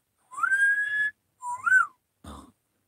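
A pet bird whistles in three short phrases: a long held tone, a rising and falling note, then a brief rougher chirp, clear and close in a quiet room.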